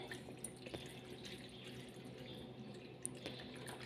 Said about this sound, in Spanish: Y vamos a añadir agua, aproximadamente 1 centímetro.